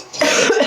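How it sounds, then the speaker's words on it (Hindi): A single harsh cough, short and close, with a rough throaty burst and no speech around it. "देखो खांसी हो रही है इसको फिर से"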